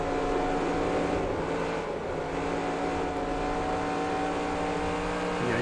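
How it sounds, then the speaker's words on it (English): A stock-car engine in a NASCAR Racing 2003 Season game, a Next Gen car at Dover, drones steadily at high revs with a constant buzzing whine, loud and continuous, with no talking. "you can hear me having to work that throttle even more when we're down on the bottom"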